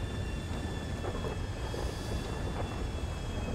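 An airplane flying in the video game GTA 5, heard as a continuous, loud, rushing engine roar with a faint steady whine, unbroken throughout and with no voices.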